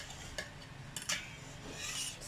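A whisk or spoon stirring leche flan custard mixture in a bowl, soft swishing strokes with a few light clinks against the side, close and quiet.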